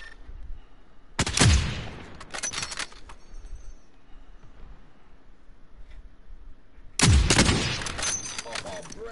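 Gunfire in a PS4 online shooter game: two loud, sharp volleys several seconds apart, each ringing out briefly over a quiet background.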